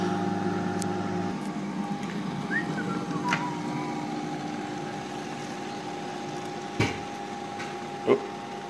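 Bacon and egg cooking in a microwave: a steady low appliance hum, then two short, sharp pops near the end, the second louder.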